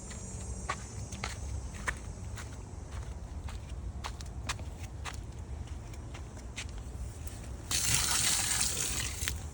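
Water from a hose gushes and splashes loudly near the end, after a stretch of scattered soft taps and footsteps outdoors by a worm tower and veggie bed.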